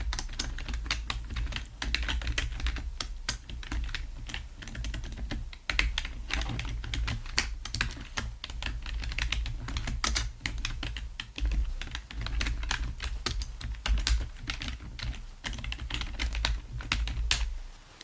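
Steady, fast typing on a computer keyboard, close and crisp, for an ASMR doctor roleplay set in a wooden consultation, with bursts of clicking keystrokes and brief pauses, no talking.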